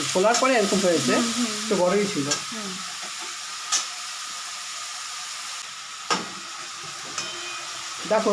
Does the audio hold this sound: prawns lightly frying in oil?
yes